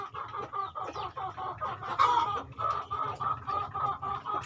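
Hens cluck busily and repeatedly up close while being fed in the morning, a dense chattering flock with occasional louder calls.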